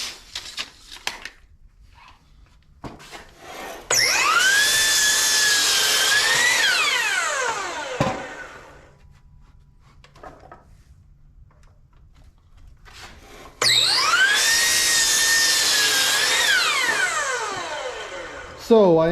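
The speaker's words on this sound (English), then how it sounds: "So I'm going to cut a few of these boards and then start fitting them to the frame behind me." A power saw cuts lumber boards for a carry-all platform frame in two loud, whining cuts of a few seconds each, with the pitch dipping as the blade bites. Quieter stretches with clunks and handling noises fall between the cuts.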